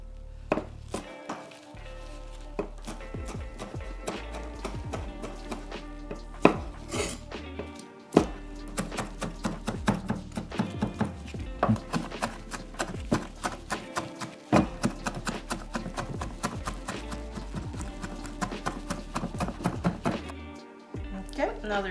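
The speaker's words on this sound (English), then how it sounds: "we're gonna cut up our serrano peppers and put them in the mix. Okay, we're gonna chop them super fine" Serrano peppers chopped super fine with a knife on a board, a long run of rapid, uneven close knocks with brief pauses.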